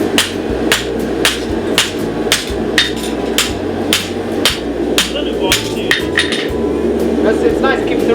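A hammer rings on a steel anvil in a steady, loud rhythm of sharp metallic strikes during hammer forging at a farrier competition, with talk faintly underneath.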